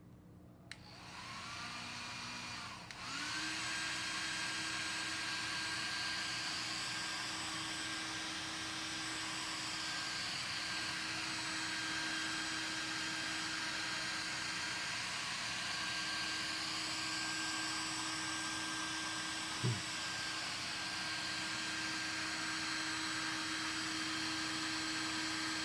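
A hair dryer switches on and blows with a steady whirring roar and a constant hum, with a single faint click partway through.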